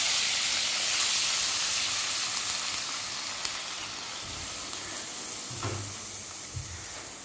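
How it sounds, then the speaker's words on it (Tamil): Crushed turkey berries frying in a teaspoon of oil in a pan, a continuous loud sizzling hiss with faint occasional pops and light stirring knocks. "ஒரு டீஸ்பூன் ஆயில் விட்டு இதை வந்து இந்த சுண்டக்காய் இடித்து வச்சுருக்கோம் இல்லைங்களா, இதை வந்து இதில் போட்டு வறுக்கணும்"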